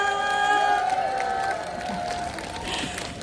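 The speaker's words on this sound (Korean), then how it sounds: "박수 소리가 너무 작아서 연주를 못 할 것 같아요" Audience at an outdoor autumn garden concert in Cheongsong gives steady, moderate crowd applause mixed with cheering, with sustained tones and a voice over the noise.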